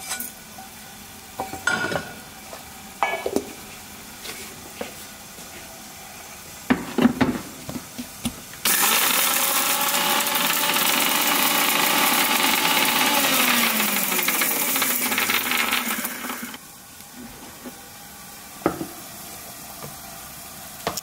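A kitchen mixer grinder grinding dry whole spices for a homemade kadai paneer masala, a loud steady whirring roar that runs for about eight seconds and then cuts out, with quieter handling clatter before and after.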